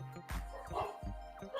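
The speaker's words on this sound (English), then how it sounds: "I'm sorry, my dogs are barking." Dogs bark in a home during a chatty morning livestream, giving a few quick, faint yips and woofs over a low background murmur.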